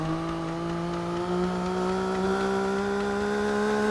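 In Farming Simulator 22, a vehicle engine holds a high, strained rev, a loud sustained droning whine whose pitch creeps slightly upward, with no talking over it.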